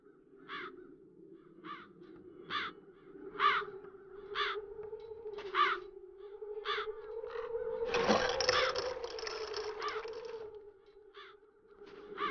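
Repeated harsh crow caws ring out at a steady, spaced rhythm over a low droning hum, with a brief burst of rustling noise midway, in the video game The Dark Eye: Chains of Satinav.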